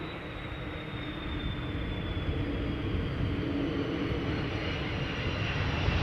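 An airliner at Amsterdam Schiphol Airport, its engines a broad steady roar with a faint high whine gliding slowly downward, loud and continuous without voices.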